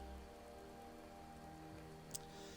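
Steady rain falls under an overcast sky in the village of Riverwood in Skyrim, a soft continuous patter with a low ambient hum and one brief sharp tick, no voices.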